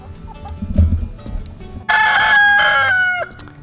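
A rooster lets out a loud, close cock-a-doodle-doo crow lasting over a second, preceded by softer clucking and shuffling.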